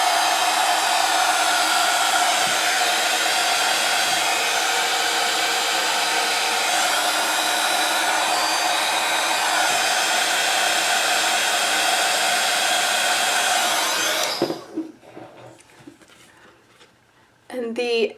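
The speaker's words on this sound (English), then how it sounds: "Now I'll just go ahead and heat set that." A heat gun blows steadily and loudly while heat-setting embossing powder on a handmade card, a constant whooshing roar for about fourteen seconds before it cuts off, leaving quiet handling noises.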